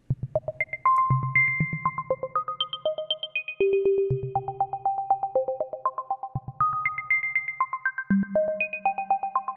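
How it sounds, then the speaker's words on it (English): Random blippy synthesized tones made in ChucK hop between high and low pitches in quick plucked notes, some held briefly, over a low repeating bass pulse, playing alone as a bright, bubbly electronic pattern. "I've got a file that does a sort of random blippy thing that sounds nice."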